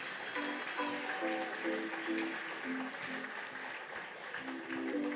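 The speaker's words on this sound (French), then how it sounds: "Applaudissements pour elle." Applause for Anaïs Thauvin, Miss Nouvelle-Calédonie 2019, on stage at the Miss NC 2020 pageant: moderate crowd clapping with stage music playing over it throughout.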